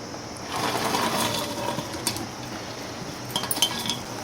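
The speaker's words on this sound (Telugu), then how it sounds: "ఇదిగోండి, ఇప్పుడు పన్నీర్ వేస్తున్నాను" Paneer added to a pan of paneer and jackfruit seed curry, with clinks and scrapes of a utensil against the pan over a soft background sizzle, close and intermittent.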